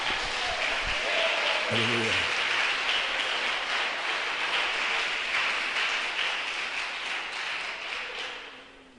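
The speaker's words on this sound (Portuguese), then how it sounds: "Dá uma salva de palmas para Deus." A church congregation applauds God during a sermon, loud sustained clapping filling the room for several seconds before tapering off, with a voice shouting briefly near the start.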